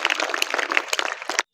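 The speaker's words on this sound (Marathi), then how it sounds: "आपण त्यांचं टाळ्या वाजवून अभिनंदन करूया" Applause from an audience at a school Republic Day program, a dense burst of clapping lasting about a second and a half before it stops abruptly, with no voices over it.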